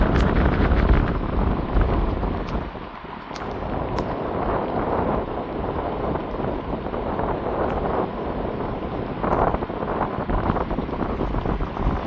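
Strong wind gusts during heavy rain in Jaffna, a loud continuous roar and buffeting rush that swells and eases throughout without a break.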